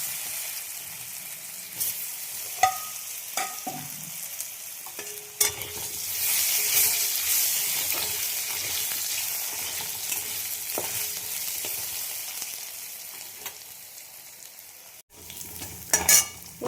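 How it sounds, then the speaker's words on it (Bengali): Potatoes fry in oil seasoned with cumin and bay leaf, a loud continuous sizzle punctuated by scraping and clinking of a spatula stirring the pan, with no talking. "আলুগুলো ভাজা হয়ে গেছে"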